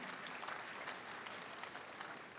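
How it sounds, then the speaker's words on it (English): An audience at a prophecy service claps steadily, a faint, even wash of many hands with no voices standing out. "Let's clap for Jesus Christ."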